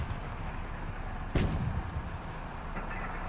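A single heavy tank cannon shot booms in the Sherman Commander PC game, a sharp blast followed by a short rumbling decay over steady engine and battle ambience.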